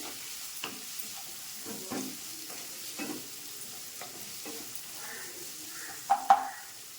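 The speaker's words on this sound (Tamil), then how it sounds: "ஒரு கைப்பிடி அளவு சின்ன வெங்காயம் போட்டுக்கிறேன் அதுவும் போட்டு வதக்கிடலாம் வதங்கிட்டு இருக்கட்டும்" Handful of small onions (shallots) sautéing in a pan for a crab gravy, a low steady sizzle with soft intermittent stirring scrapes and two louder clinks near the end, no talking.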